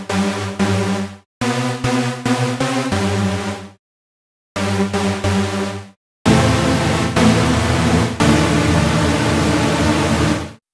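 Bright, thick supersaw synth chords with a chorus effect, made in BioTek 3, play in rhythmic bursts separated by short silences, then a long sustained wide chord rings out loud and alone.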